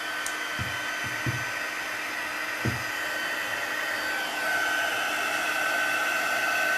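An embossing heat tool blows hot air over embossing powder on a birthday gift bag and card, a steady close whoosh with a few soft knocks near the start that grows slightly louder partway through.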